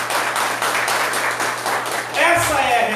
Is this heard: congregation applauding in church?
yes